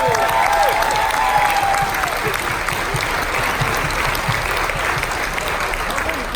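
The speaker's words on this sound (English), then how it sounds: "So how about a big round of applause for our international allies" Crowd applause at a veterans' military appreciation party aboard a Carnival cruise ship, a loud, dense, continuous roar of clapping with some cheering and a short whistle near the start.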